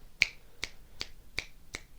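Five crisp finger snaps spaced evenly about every 0.4 seconds, close and clear against a quiet background, offered in place of clapping during a podcast.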